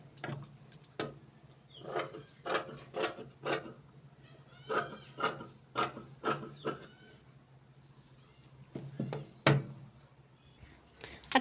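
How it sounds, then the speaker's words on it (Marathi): Scissors snip through blouse fabric in a series of sharp, separate cuts with short pauses between them, close and fairly quiet, with no talking. "खालचा कपडा मी कट करून घेणार आहे।"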